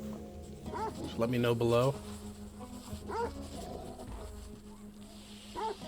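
Dogs, a Great Dane and a Weimaraner, in the survival game Stranded: Alien Dawn, giving a few short whimpering yips and whines scattered over a steady low hum, with someone talking throughout.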